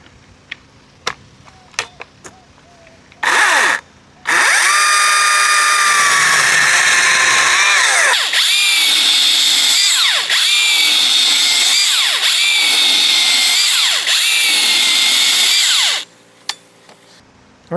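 A Kobalt brushless battery chainsaw cuts through wood, with a few short bursts, then a long steady loaded whine lasting about twelve seconds and dipping rhythmically as the chain bites, then it winds down, close and loud with no voices.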